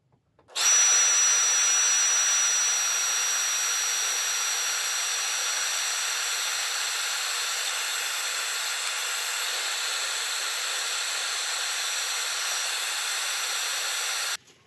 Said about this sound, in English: I think the rest of that I can get with sanding